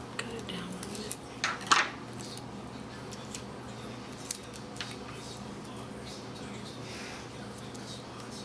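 Scissors snip through tape during a paper-craft fold project: a few quick, close cuts near the start over a quiet room, then near silence with faint handling.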